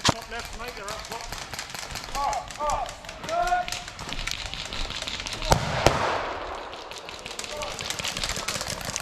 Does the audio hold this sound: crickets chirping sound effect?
no